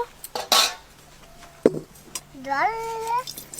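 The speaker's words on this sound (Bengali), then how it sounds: "উনানে আঁচ আছে, কড়াটা একটু বসিয়ে দেব।" A karai wok is set down on a lit stove while sweets are being cooked, giving a short sharp metal clank and a few clinks, with a voice and other faint voices in the background.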